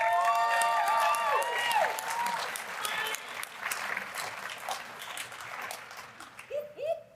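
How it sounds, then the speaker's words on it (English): Audience applause at the Oxford House World Convention, sustained clapping from a large crowd with a voice speaking over it at the start, tapering off toward the end. "let's have another round of applause for Bigfoot"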